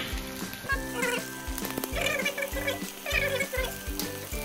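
Ginger, garlic and crushed green chili paste sizzling and frying in a hot pan while cooking garlic chicken curry, a steady close crackle with faint stirring clatter, no talking.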